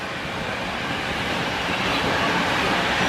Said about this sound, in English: That soulless EMU thing pulling into the other platform, that is not a proper train.